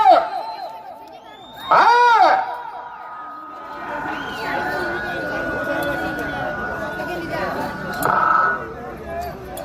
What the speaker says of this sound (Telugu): కేకలు కేరింతలు